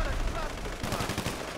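Video game gunfire crackles in fast, dense bursts that grow stronger partway through, with a player speaking over the shots.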